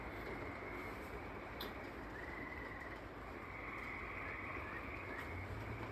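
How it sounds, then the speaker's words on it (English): Rain falling during a thunderstorm just south of Troy, Illinois, a steady broadband hiss of drops recorded on a phone, with a faint low rumble in the background. "You can definitely hear it raining."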